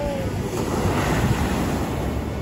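Ocean surf rolls onto a sandy beach during a morning fishing outing, a steady broad wash of waves mixed with wind buffeting the microphone, close and fairly loud throughout.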